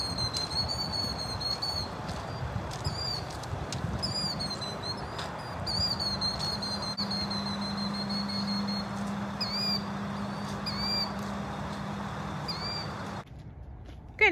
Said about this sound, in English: See, bird. You hear that? Yeah, they're singing.